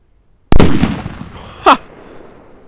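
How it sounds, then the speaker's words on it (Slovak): A Big Bang 5G firecracker packed with steel wool bursts in one loud, close blast with a crackling decaying tail, followed about a second later by a shorter second pop. "Je tam petarda Big Bang 5G alebo proste Doom Boom 5G a oceľová vlna"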